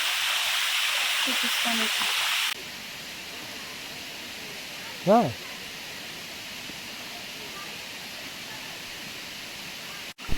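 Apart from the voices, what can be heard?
waterfall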